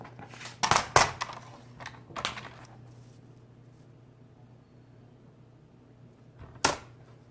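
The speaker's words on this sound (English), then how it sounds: "I'm going to go ahead and cut this strip off." A strip is cut off a notebook cover material with a few sharp, close cutting strokes, several in quick succession at first and one more after a long quiet stretch, over a low steady hum.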